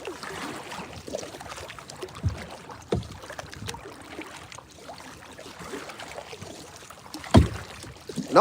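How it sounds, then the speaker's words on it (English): Kayak paddled across open water while out fishing, irregular splashes and drips of the paddle strokes close by, with one louder splash near the end over light background noise. "It ain't never easy to move on a kayak."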